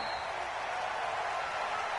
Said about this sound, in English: And in front of a raucous crowd, this one is underway.